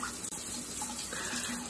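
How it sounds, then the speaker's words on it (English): Hot water from a hotel shower runs in a steady, hissing spray, continuous and fairly close with no voices. "Beautiful, warm, hot shower after you wait 10 to 15 minutes."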